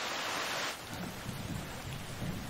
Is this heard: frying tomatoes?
no